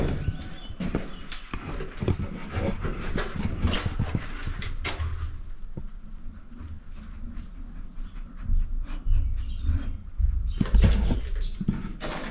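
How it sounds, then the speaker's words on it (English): A bird, one that has been nesting in the room, tries to get inside, with scattered soft cooing and wing flutters against a steady low rumble of household background. "Oh, there's a bird trying to get in."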